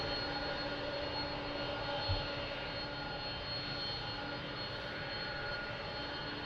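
A Delta Air Lines Boeing 767 jet at Lisbon Airport produces a faint, steady engine drone with a constant whine, distant and unbroken, with no voices.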